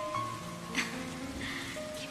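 Steady, soft rain falling, a continuous faint patter with no voices.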